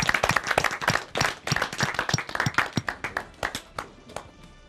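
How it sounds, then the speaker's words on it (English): A small audience at a MotoE press conference claps with distinct, close hand slaps that form an uneven burst, thinning out and fading toward the end. "just round of applause for our class of 2023,"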